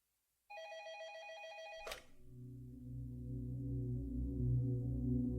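An old-style telephone bell rings in a sustained metallic trill, then a sharp click cuts it off and a low droning tone takes over, loud and close with no voices.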